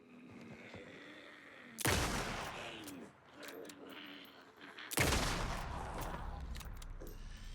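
Two loud, sharp hunting rifle shots ring out in the horror game Alan Wake 2, each a sudden booming crack with a long echoing tail, separated by a few seconds of quieter ambient game sound.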